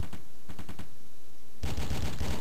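Rapid bursts of gunfire from a Fifth Element video game, a short run of sharp shots followed by a dense, loud volley of automatic fire near the end.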